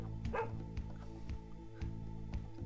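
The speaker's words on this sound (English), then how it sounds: "Where's the dog sound?" A dog in a video game barks in a run of short, repeated woofs with a few yips, close and clear over a faint game backdrop.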